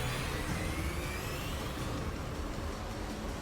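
A truck drives past a moving taxi in Mass Effect 2, a steady loud broadband vehicle roar with low rumble, continuous throughout with no talk.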